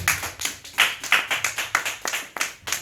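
Congregation in a church clapping in a steady rhythmic beat, about a dozen sharp claps in under three seconds, fairly close and alone without talk.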